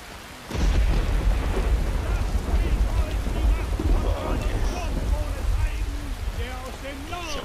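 Heavy rain pours in Skyrim, a dense steady hiss of drops with low rumbling, probably thunder, starting abruptly and continuing loud, while a person speaks over it.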